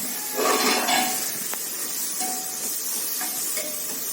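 Chillies sizzling and frying in a pan for chicken biryani, a steady broad hiss with a few brief clinks and scrapes of stirring, close and continuous.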